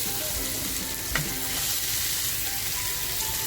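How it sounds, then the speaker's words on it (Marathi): Silver barfish frying in a pan, a quiet continuous sizzle with one brief clink as the fish is flipped over, close and alone. "आपली मच्छी आहे ना एक बाजूने छान फ्राय झाली आहे पलटी करून येते"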